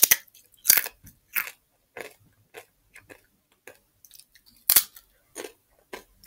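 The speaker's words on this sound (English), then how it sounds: "I've just been sitting here eating Doritos." Doritos tortilla chips being eaten close up, with sharp, separate crunches and bites followed by quieter chewing at an irregular pace, with no talking.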